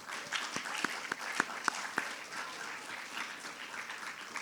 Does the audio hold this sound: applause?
yes